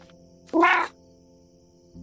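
A single cat meow from a video game, loud and close, lasting about half a second, set over a faint steady background hum.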